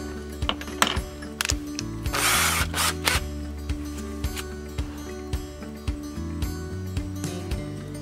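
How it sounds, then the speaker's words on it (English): Whirring power drill running in short bursts with a steady motor hum and clicks, close by and fairly loud, drilling a pilot hole with a small bit into a kayak hull. "I'm gonna drill another pilot hole, smaller drill bit."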